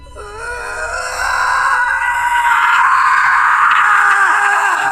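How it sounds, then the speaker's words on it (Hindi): A loud, sustained high-pitched scream rises after a brief start and holds steady, piercing and close, with no talking. "एक तेज रूह कंपा देने वाली चीख जो सन्नाटे को चीरती हुई उसके कानों में घुस जाती है।"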